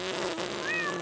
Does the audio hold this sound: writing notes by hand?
no